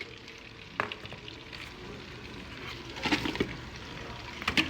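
Garlic, shallots and onion frying in melted butter in a pan, a soft steady sizzle with a few louder crackles and stirring scrapes, no voices.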